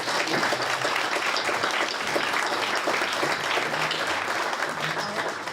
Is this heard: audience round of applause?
yes